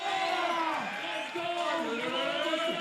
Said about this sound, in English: JD and Kitos sending the crowd wild